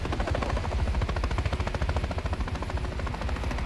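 Call of Duty: Modern Warfare III combat with helicopter rotor thumping mixed into rapid gunfire, a dense, loud, continuous rhythmic chopping that stays steady throughout.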